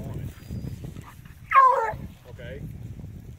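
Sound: hunting dogs barking during Missouri rabbit hunt

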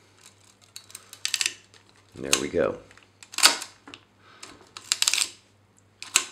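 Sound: advancing film on Konica Autoreflex camera

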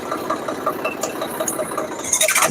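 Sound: tractor engine on a farm track

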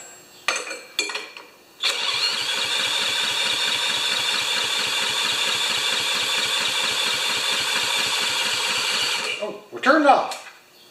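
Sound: 196cc earth compactor engine starting and running

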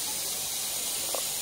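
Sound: pressure cooker hissing steam while cooking chicken curry

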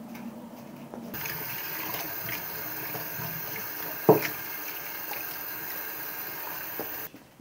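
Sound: water washing crab apples

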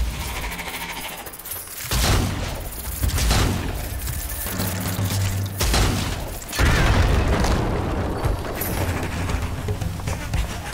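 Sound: grenade explosion in video game Strange Brigade

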